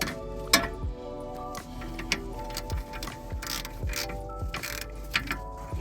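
Ratchet wrench snugging bolts on a Hyundai Elantra front CV axle, a run of quick mechanical clicks with metallic clanks and tool knocks, close and moderately loud, no talk over it.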